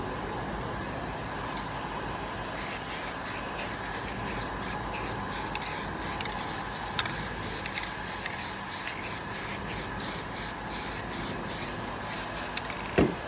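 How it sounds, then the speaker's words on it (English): Spray paint hisses from an aerosol can in rapid repeated short bursts during bodywork on an El Camino, alternating with a heat gun drying the coats, over a constant close blowing hum with no talking. "heat gun in my left hand, paint can in my right."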